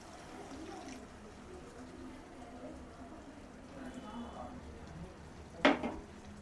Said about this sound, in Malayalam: സോ നമുക്ക് ഈ വെള്ളം കൂടെ ഒഴിക്കാം